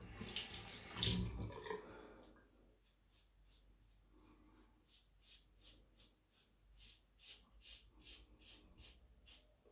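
A bathroom tap runs briefly to wet a Karve Christopher Bradley safety razor, a short close gush of water that fades into quiet, soft rhythmic scraping sounds.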